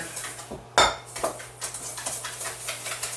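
Rhubarb cake batter creamed with plain white sugar using a fork in a bowl, giving steady close scraping and clinking of metal against the dish, with one sharper knock near the start and no talking.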